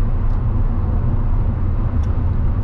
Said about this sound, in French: Juste le petit feulement du 6 cylindres, juste ce qu'il faut.